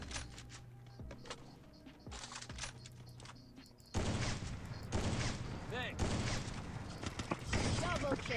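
Rapid gunfire bursts from the Free Fire video game, dense loud volleys that grow stronger after a quieter opening of scattered shots, with talking heard over the action.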